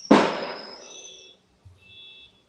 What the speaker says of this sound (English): Fireworks, yeah.